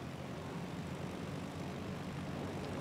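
A propeller airplane engine from the video game Heroes & Generals drones steadily as a loud, continuous, low rumbling roar with a grainy texture and no breaks; no one speaks.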